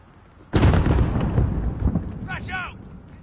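A grenade blast in a first-person shooter, a sudden loud burst that rumbles and decays for a few seconds, with a brief whistling effect near the end.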